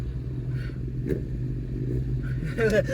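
Loud Pontiac engine rumbling steadily at a Cruisin State Street car show in Fremont, Ohio, with a brief rise around the middle and louder revving near the end, under continuous nearby crowd noise and talk.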